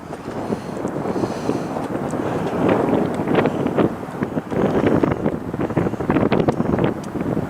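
Strong wind buffets the microphone in a constant loud roar with gusty surges, no voices heard, at a foggy hilltop viewpoint on Szczytnik in March.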